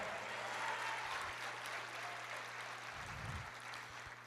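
A church congregation applauds the Lord during a sermon, with continuous moderate clapping over a low steady hum and a brief low thump near the end.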